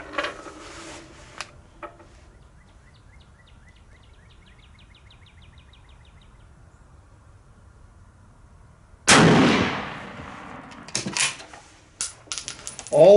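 A bolt-action military rifle such as a K98k, No4 MK II or M44 is fired at a 100-yard outdoor range; a single loud, sharp shot booms and echoes, followed by metallic clicks and clatter, with quiet gaps and faint birds.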